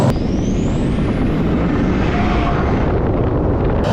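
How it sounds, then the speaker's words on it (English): A Ford 6.7 Powerstroke diesel truck accelerates hard and spins its tires, producing a loud, sustained roaring rumble with heavy wind buffeting, steady throughout. "Oh my God, we just spun the tires."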